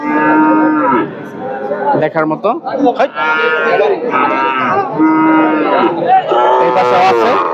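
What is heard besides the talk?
Friesian cow mooing at cattle market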